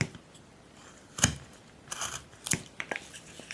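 A knife cutting into wood during hand carving of a pilgrim figure, with a few sharp scraping cuts and snaps, close and moderately loud, no talking.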